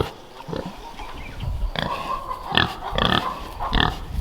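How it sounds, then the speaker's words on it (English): Pigs inside a homestead barn give a series of short, close grunts and snorts in uneven bursts, about six or seven distinct calls over a low background. "Dirty pigs."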